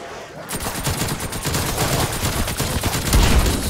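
Rapid nailgun fire in a video game, round 41, a dense continuous stream of sharp shots that starts after a brief quiet moment and stays loud throughout.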